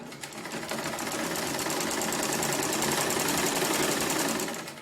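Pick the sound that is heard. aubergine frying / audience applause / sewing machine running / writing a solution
sewing machine running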